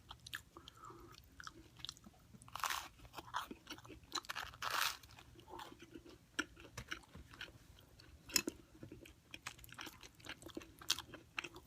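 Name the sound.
crunching while eating toast at barbecue joint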